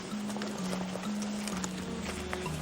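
Horses moving at a walk, with soft hoof clops over a steady low drone and a sustained tonal hum; no talking.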